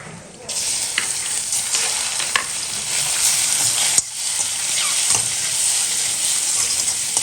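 Mustard seeds and onions fry in hot oil, giving a loud, continuous sizzle with brief crackles and a sharp clatter from stirring partway through.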